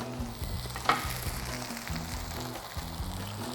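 Pieces of veal fry in a hot pan with a steady close sizzle, with a few clinks and stirring sounds on top and no talking.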